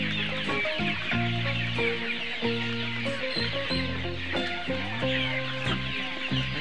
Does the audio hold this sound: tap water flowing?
no